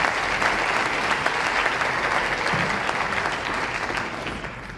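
Audience at a large business networking event in Vancouver applauds Len, a dense, sustained round of clapping from a big crowd that stays loud and even before tapering slightly at the end.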